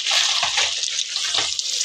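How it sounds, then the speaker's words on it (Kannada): Water is poured into mutton head-and-trotters sambar cooking in a pressure cooker, a steady close splashing rush with faint gurgles. "ಸ್ವಲ್ಪ ನೀರು ಹಾಕ್ತಾ ಇದ್ದೀನಿ."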